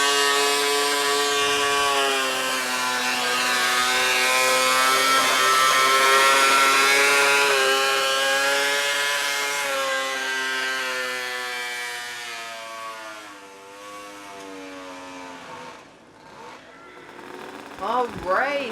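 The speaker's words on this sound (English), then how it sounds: "Snowmobile engine." Snowmobile engine pulling at a tractor pull event, a loud, sustained high-revving whine that holds steady and then tapers off as the machine moves away, with no voices during the run.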